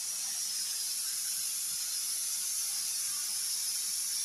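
Dried chilies and spices sizzle in hot oil in a pan, a faint, even, continuous hiss that never lets up.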